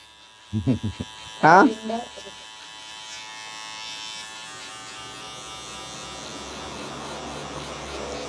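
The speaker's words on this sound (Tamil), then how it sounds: "சஞ்சய் சேவ் எடுக்கணுமா?" An electric shaver or trimmer being offered for a shave gives a steady, fairly quiet buzz that runs through most of the clip after a few brief spoken words at the start.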